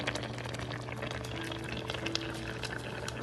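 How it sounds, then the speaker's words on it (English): A pot of fish with broccoli, corn and carrots steams and bubbles on the stove, giving a steady close boiling hiss with small gurgling pops throughout. "steam and bubble"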